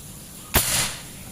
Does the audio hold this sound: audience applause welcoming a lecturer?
no